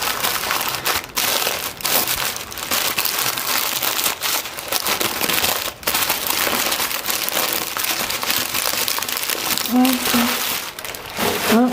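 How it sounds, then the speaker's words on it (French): Crinkling and crushing of packaging as a box holding a vintage Simplex suicide rear derailleur for a 1950s randonneuse is unwrapped, a steady busy rustle with sharp crackles running the whole time, close up, with a voice briefly heard. "Je le déballe."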